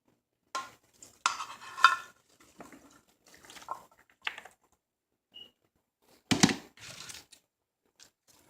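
Freshly washed radish leaves are set into a pan one handful at a time, giving short wet rustles, soft drips and a brief hiss, each burst separated by near silence.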